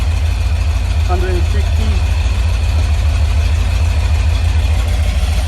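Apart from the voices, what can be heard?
carbureted 4.0 Rover V8 engine running on engine stand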